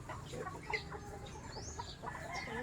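Backyard chickens cluck faintly among garden ambience, scattered soft calls over a low outdoor background hum.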